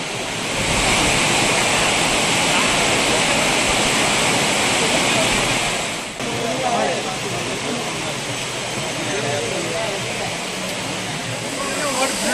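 The Courtallam waterfalls in Tenkasi district roar with a steady, loud rush of falling water while crowds of tourists bathe, and indistinct voices blend into the noise.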